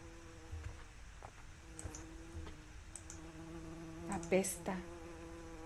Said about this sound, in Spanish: ¡Hay moscas!